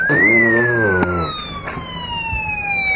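A shrill electronic siren tone from a Snap Circuits kit rises sharply, then slowly glides downward in a long continuous wail, loud and close with a buzzy, harmonic-rich edge.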